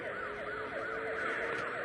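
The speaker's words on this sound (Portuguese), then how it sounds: "Acelera o Camaro que tem sirene." Wailing police-style siren on a Camaro in the racing game Asphalt Nitro, rising and falling in quick repeating sweeps over a steady engine hum, fairly loud and uninterrupted.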